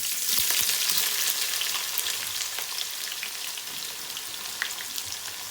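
Onions sizzling and frying steadily in very hot oil for a lamb mince and capsicum dish, a dense continuous crackle with faint stirring ticks, close and fairly loud, no talking.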